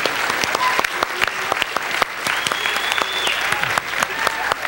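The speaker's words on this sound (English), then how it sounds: "How about stand up and give them a good applause?" A church congregation gives a standing round of applause for its leadership team, with steady, close clapping and a few voices mixed in.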